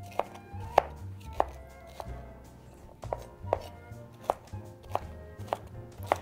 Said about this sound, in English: And then I just slice it.